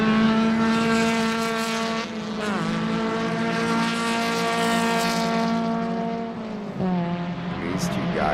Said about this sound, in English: Lots of close racing all the way through the field.